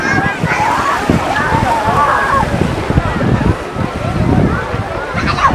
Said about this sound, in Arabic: وادي الشط بتاعها اهو من اوله، الناس كلها في البحر